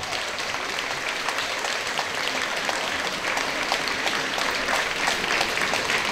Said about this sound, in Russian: Громче аплодисменты, громче!